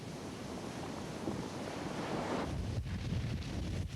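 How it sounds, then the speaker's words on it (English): Heavy surf pounds against a fresh pahoehoe lava shoreline at Kilauea's tidal zone, a dense continuous roar of crashing waves with rushing wash and some wind buffeting on the microphone, rising in strength midway. "Heavy surf pounding against the growing shoreline may shatter and tear the Pahoehoe as it emerges from tubes in the tidal zone."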